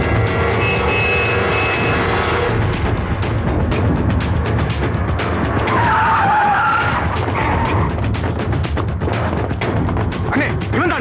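Car tyres skid loudly as the vehicle turns hard in a 2006 Tamil film scene, a sustained screech with a rising squeal midway over engine roar, sounding close and cinematic.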